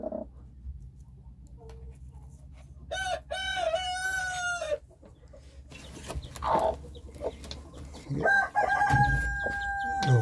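Hens sit in a nest with newly hatched autumn chicks, giving close, intermittent clucks and drawn-out harmonic calls in several bursts, with quiet gaps and low background hum between them.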